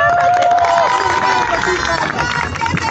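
An outdoor street audience in Xela applauds a street performer, with dense, loud clapping and crowd voices filling the whole stretch and a brief tonal voice at the start.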